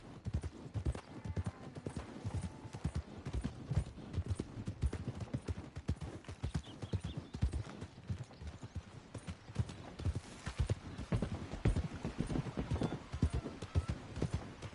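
Steady horse hooves clip-clopping at a walking pace in the video game Red Dead Redemption 2, close by, with a faint whinny now and then and a low ambient background.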